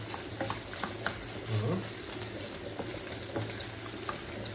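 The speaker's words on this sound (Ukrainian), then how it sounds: "Варенички наші закипає вода." A pot of water coming to a boil for varenyky, with a low steady bubbling rumble and scattered small pops and clinks, fairly quiet and close.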